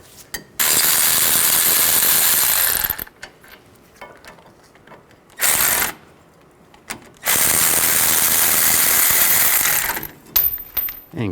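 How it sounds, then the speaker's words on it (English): Ratchet wrench with an 18mm socket loosening caliper bracket bolts on a 2002-06 Chevy Avalanche front brake, two long loud bursts of rapid clicking with short bursts between, close up, no talking. "Remove these two caliper bracket bolts."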